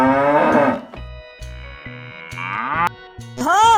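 A cow stands beside its calf and lets out several loud, drawn-out moos, with short breaks between calls and a light musical backing throughout.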